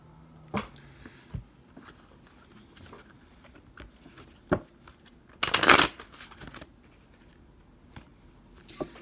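A tarot deck is shuffled up close, with scattered soft card taps and flicks and one loud riffle burst of about half a second midway; there is no talking.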